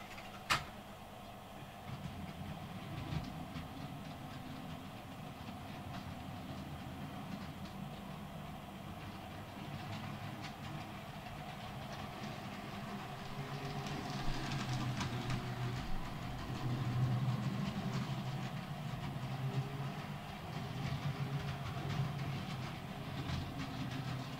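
A model train rumbles steadily along its track, with faint rhythmic clicking and a sharp click at the start, no voices.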